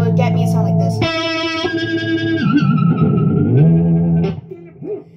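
An electric guitar with a Floyd Rose whammy bar produces a distorted, bending whinny that imitates a horse, with rising and falling pitch wobbles over several seconds, loud and close, and a voice speaking briefly at the end.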